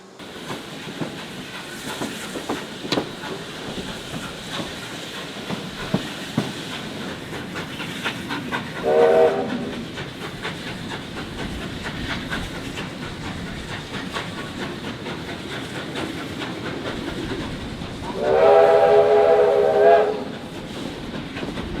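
A Steamrail heritage train shuttle runs toward the bayside suburb of Sandringham with a continuous rumble and rail clatter, and two whistle blasts sound over it, one short and one longer.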